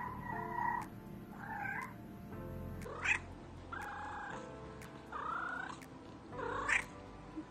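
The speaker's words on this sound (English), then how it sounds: "This one is described classically as a greeting call" A cat makes several short, rolling chirrup-like calls, each a brief trill, spaced a second or so apart and heard up close.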